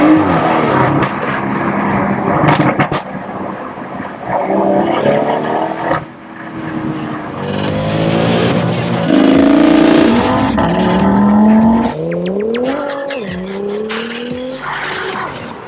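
A BMW M140i Shadow Edition hot hatch revs its engine hard with rising and falling pitch, joined by loud tire squeal and skidding, continuous and close, without talk.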